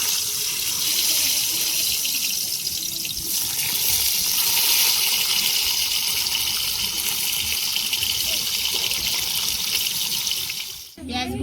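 Salted pointed gourd (potol) sizzles in hot oil in a pan, a loud, steady hiss with a crackling texture that holds throughout.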